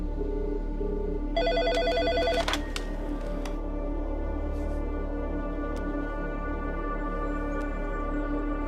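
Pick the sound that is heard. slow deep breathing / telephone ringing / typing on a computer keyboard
telephone ringing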